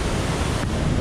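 Steady, loud rushing water fills the whole second, a dense broadband roar like a nearby waterfall with no breaks or voices.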